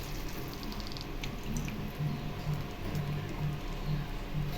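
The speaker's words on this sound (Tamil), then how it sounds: "கத்திரிக்காய் வேகணும், அதனால ஒரு 1/4 டம்ளர் தண்ணி ஊற்றிக்கலாம்" A quarter tumbler of water poured into brinjal gravy cooking in a pan, giving a steady wet trickle and splash with a faint low bubbling underneath, no talk.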